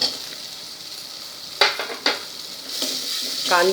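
Onion, bay leaf and black peppercorns sizzle in hot ghee in a pan for tomato soup. A soft, even frying hiss is broken by a couple of sharp utensil clinks near the middle.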